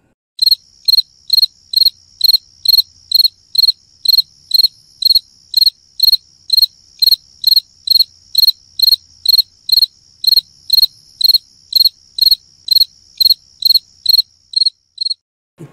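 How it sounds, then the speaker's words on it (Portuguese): A cricket chirps in a steady, evenly spaced series of sharp, shrill pulses, about two per second, loud and close with nothing else heard, stopping near the end. "De um grilo?"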